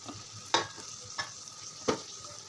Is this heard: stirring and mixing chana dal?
yes